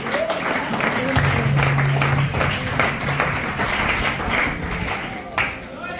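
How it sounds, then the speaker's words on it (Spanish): Church congregation applauding during a sermon, broad clapping with a steady roar of hands, mixed with crowd noise and voices speaking over it. "Den un aplauso fuerte a Jesús."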